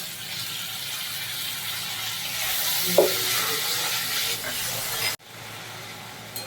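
Ginger, slit green chilies and tomato fry in a pan for a vegetarian banana-stem dish, giving a steady loud sizzle with stirring and one brief clack before the frying cuts off abruptly near the end.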